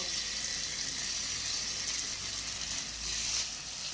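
Steady, hissing sizzle of masoor dal bori frying in a pan, an even broadband crackle holding throughout with no voices.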